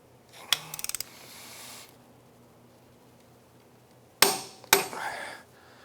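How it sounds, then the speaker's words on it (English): A torque wrench tightening the main castle nut on a Can-Am Outlander ATV axle: a quick run of close ratcheting clicks early on, then two sharp metallic clunks with a brief ring near the end, quiet in between. "Let's get that main castle nut torque"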